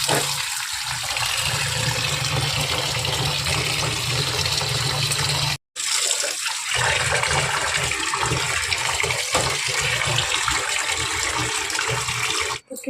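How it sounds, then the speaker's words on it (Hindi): Steady running water from a kitchen tap while vegetables are washed beneath it, a continuous loud gush with brief breaks where the flow stops, close and alone without talk. "मैंने सब्ज़ी भी धो दी"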